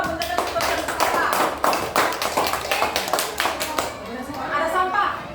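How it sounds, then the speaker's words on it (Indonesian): Schoolchildren in a classroom clap their hands in a brisk, somewhat uneven burst of distinct claps for several seconds, close by. Chatter and talking follow as the clapping dies away. "Iya, tepuk tangan."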